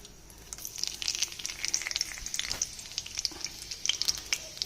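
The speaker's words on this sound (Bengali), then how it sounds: "কড়াই আমি একটু তেল গরম করে নিয়েছি, তার মধ্যে তেজপাতা, জিরে আর শুকনো লঙ্কা দিয়ে দেবো" Bay leaf, cumin seeds and dried red chilli crackle in hot oil in a kadai as a tempering for a dried-pea ghugni, with dense, fast, spitting pops over a soft hiss, close but moderate in level and with no voices.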